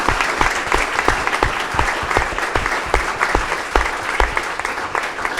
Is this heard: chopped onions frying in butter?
no